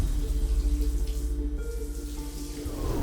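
A shower runs in a bathroom, a steady spray of water with a faint dripping, splashing texture, close and continuous with no voices.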